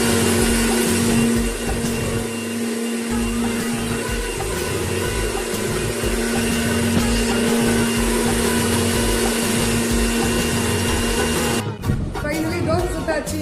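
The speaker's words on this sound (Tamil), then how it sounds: "மிக்சியில போட்டு அரைக்கலாமா?" A mixer grinder whirring steadily as it grinds onion for chutney, a loud continuous motor whine that cuts off near the end, followed by softer kitchen sounds.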